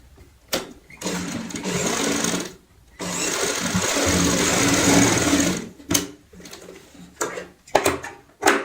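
A sewing machine stitches a handbag seam in two sustained runs of rapid, steady whirring, with short clicks and handling knocks in the pauses between.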